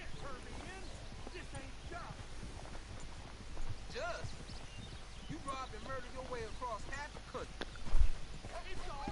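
Horse hooves clip-clop in Red Dead Redemption 2, a steady soft gait under almost constant chatter from a man and game dialogue, with wind in the background.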